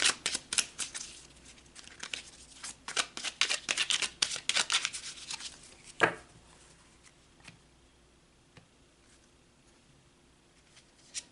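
Tarot cards shuffled in a run of quick, papery riffles and flicks over about six seconds, ending in a sharp snap as cards are pulled, then near silence with faint taps; close and fairly quiet, no talking.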